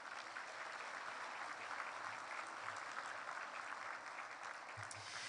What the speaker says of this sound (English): Please give them both a big warm round of applause